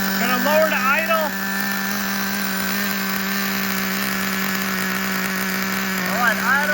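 A Traxxas Revo nitro RC car engine runs at a steady, loud, buzzing drone close by, holding an even pitch throughout, while a voice briefly speaks over it at the start and end.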